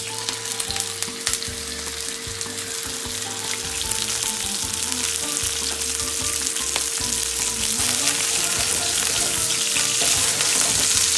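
Loud, steady sizzling of flank steak searing in a hot pan over full fire, a continuous crackling hiss with a faint hum beneath, no talking.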